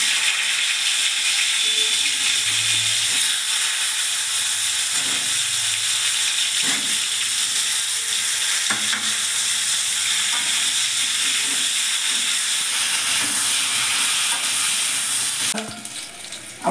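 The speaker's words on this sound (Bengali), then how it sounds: "আমি কড়াতে সাদা তেল দিয়ে দিয়েছি। এবার আমি বেগুনগুলি একটু লাল লাল করে ভেজে নেব।" Eggplant pieces fry in white oil in a wok for a Bengali coconut eggplant curry, giving a steady, loud broadband sizzle that runs without pause and ends in a brief clatter. No voices.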